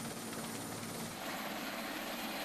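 Search and rescue helicopter operating at sea, a continuous rotor and turbine roar heard as a steady, even wash of noise throughout, without any voices.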